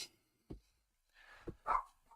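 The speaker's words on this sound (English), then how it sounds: "Sorry if you can hear that dog barking." A few sharp dog barks come from somewhere off at a distance, from indoors at a window, separated by short gaps, the last bark a little louder than the others.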